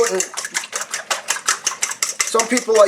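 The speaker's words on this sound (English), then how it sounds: "I got some eggs in a bowl. Here, let me scramble them." Rapid rhythmic clinking of a utensil whisking eggs against a bowl, a quick steady beat of taps, close and fairly loud.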